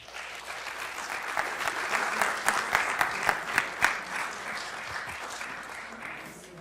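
An audience at an academic awards ceremony applauds steadily. A few sharper, closer claps stand out in the middle of the dense clapping, which then tapers slightly.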